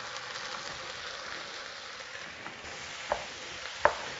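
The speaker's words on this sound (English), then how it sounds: "we're going to let these onions just cook down to nothing" Onions sizzle in butter in a pan while they caramelize for French onion soup, a soft steady crackle with two sharp utensil clicks toward the end.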